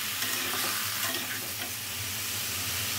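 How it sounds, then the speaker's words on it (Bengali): Spices tempering in hot oil for a Bengali dish with singi fish, a dense steady sizzle and crackle with faint stirring, close and continuous. "এটা আমি ফোড়নে রান্না করব, ফোড়ন দিতে হবে।"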